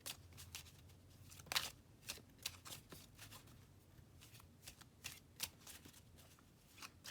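Tarot cards being shuffled by hand, a quiet close series of soft riffling flutters and sharp slaps in an uneven rhythm, alone with no speech.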